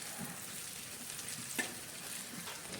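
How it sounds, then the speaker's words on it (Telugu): Goat brain pieces coated in masala fry in a pan, giving a steady sizzle with soft scraping stirs and one brief sharper clink, close and continuous with no talking. "ముక్కలుగా కట్ చేసుకుంటూ ఐదు నిమిషాలు అడుగంటకుండా ఫ్రై చేసుకోవాలి"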